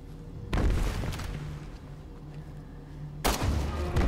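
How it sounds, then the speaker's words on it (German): Two loud, close gunshots ring out in Resident Evil Revelations 2, each a sharp booming crack with a long rumbling decay, spaced about three seconds apart. "In den Kopf geschossen"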